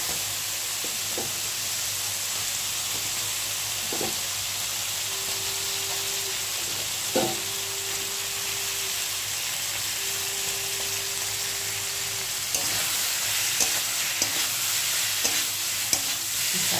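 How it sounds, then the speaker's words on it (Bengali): Ridge gourd stir-fried with onion and spices sizzles and hisses steadily in a pan, broken by scraping stirs and occasional spatula knocks, with a clatter of stirring toward the end and no talk. "ভালো করে ঝিঙেটা মশলার সাথে কষিয়ে নিতে হবে সুন্দর করে"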